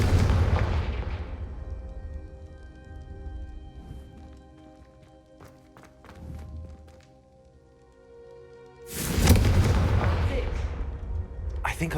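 Fire spell blasts in Hogwarts Legacy: a loud burst opens, then quieter crackles and thuds, and a second heavy explosion near the end, with faint voices in between.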